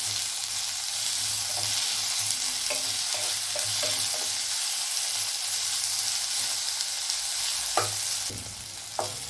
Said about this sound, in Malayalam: ടൊമാറ്റോ ഇട്ട് നല്ല വഴറ്റണം